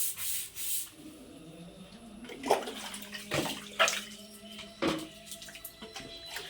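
Water is poured out of a mossy fish pond tank and sloshes out in several uneven splashes, fairly faint and close, with scraping rubs between pours.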